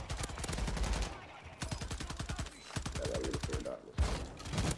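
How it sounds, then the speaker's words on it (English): Gunfire in the Warzone video game, rapid automatic bursts in several close runs separated by short gaps, fairly quiet overall. "Shotgun? Yeah, that hurt."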